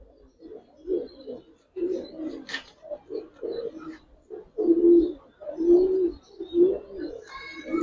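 Pigeons cooing in a loft of flying and racing birds, a male among them, with repeated low rolling coos in uneven bursts, close and fairly clear, plus a faint higher chirp or two.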